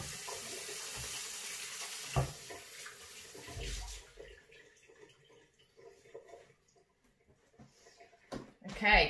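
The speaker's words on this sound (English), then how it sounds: "I'll just quickly wash my hands before I touch everything else." A tap runs strongly as hands are washed in a kitchen sink, the gushing water continuing for several seconds before turning off, leaving quieter clatter and handling afterward; a voice speaks briefly at the end.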